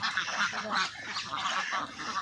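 Several ducks quack in a noisy, overlapping chorus close by, with continuous calls and no clear pauses.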